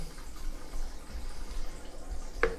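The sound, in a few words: water running down the unblocked sink drain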